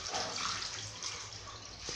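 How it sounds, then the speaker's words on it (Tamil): Water is poured over a newborn baby during bathing, a close, continuous splashing pour that lasts throughout. "நல்லா கழுத்துக்கிட்ட இப்படி வந்து நீவி நீவி ஊற்றணும்."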